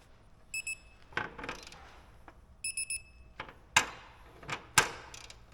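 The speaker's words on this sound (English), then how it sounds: "Hear it beep there, that means we're up to torque." A torque wrench emits two short bursts of triple electronic beeps signalling that the set torque has been reached while working on farm equipment, with clanks and clicks of tools and metal in between.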